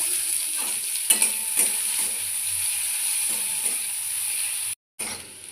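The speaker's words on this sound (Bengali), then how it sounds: "দিয়ে পেঁয়াজটা একটু ভেজে নেব।" Onions frying in mustard oil: steady frying sizzle with a bright hiss, broken by a few soft stirring knocks and a brief cutout near the end.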